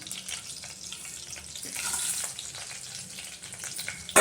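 Garlic crackles in hot tempering oil with mustard seeds, lentils, cumin, fenugreek and curry leaves, a soft, steady sizzle with light spattering near the pan, ending in a sharp clatter.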